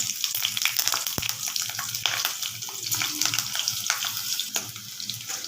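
Green chillies, mustard seeds, urad dal and curry leaves fry in hot oil in a pan, a steady crackling sizzle with occasional stirring scrapes and a sharp pop near the start.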